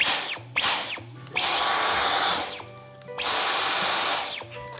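A Dyson V11 cordless stick vacuum cleaner spins up in two quick short bursts, then runs twice for longer stretches with a high electric whine that rises on start and winds down on stop, loud and close with no talking.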